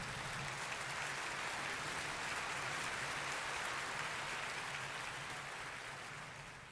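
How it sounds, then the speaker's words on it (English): Steady crowd applause from The Legend of Zelda: The Wind Waker rings out continuously for several seconds as a dense wash of claps, fading slightly at the end. "They get a round of applause."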